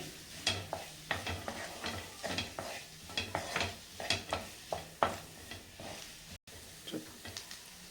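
Egg coated in masala frying and being stirred in a pan for a bread omelette, with repeated scraping stir strokes and a soft sizzle underneath, fairly close and steady.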